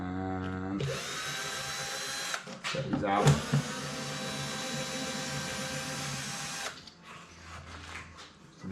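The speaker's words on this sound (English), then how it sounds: "Use a drill" A power drill whirs steadily at close range while pulling screws from a Land Rover Defender's light unit, running in long sustained bursts with a brief pause and a few clunks midway, and someone talks briefly at the start.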